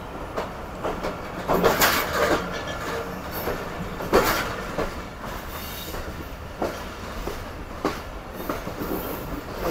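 Karakoram Express, an old-coach passenger train running from Lahore, rumbles along steadily with rattling wagons and scattered clicks and squeals as it turns onto an adjacent platform track, close and continuous with no talking.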